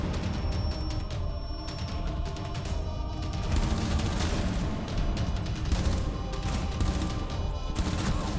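Dense, continuous gunfire from a video game gunfight, steady and loud throughout with rapid overlapping shots and booms, no voices.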